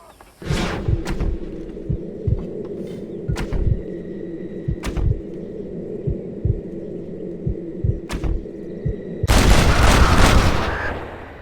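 Gunshots in the Red Dead Redemption video game: a series of punchy, irregularly spaced shots over a steady low hum, ending in a louder, sustained noisy burst.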